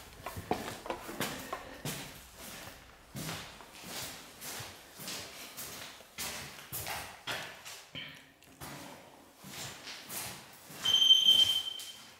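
A triggered alarm in an old manor house gives a steady, loud electronic tone near the end, after a long run of shuffling footsteps and knocks.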